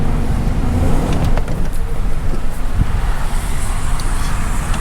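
An OBS Ford truck engine runs as the vehicle backs up, giving a steady, close, broadband rumble with traffic-like road noise and no talking over it.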